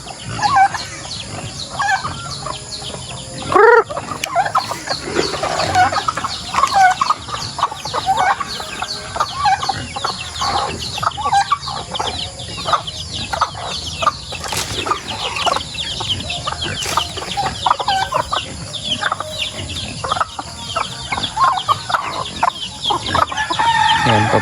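Backyard chickens cluck busily and roosters crow now and then, with turkey-like gobbles mixed in, under a steady wash of outdoor noise on a small farm beneath coconut trees.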